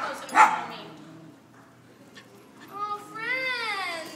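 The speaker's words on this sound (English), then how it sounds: "She's growling. That's not mean growling." A small puppy gives a sharp bark, then low playful growls and whiny yips build into high-pitched puppy whimpers and barks, close by during puppy playtime.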